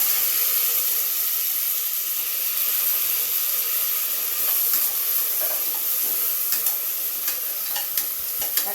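Tomatoes frying in a pan, a steady close sizzle and hiss with occasional small pops and stirring scrapes, no voices.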